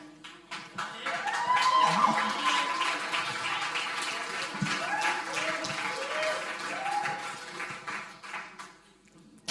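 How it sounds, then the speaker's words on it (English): Audience at an International Women's Day workshop applauding a woman named Kenya, an uneven round of clapping with voices talking and calling out over it, tapering off toward the end. "Keep giving her a round of applause"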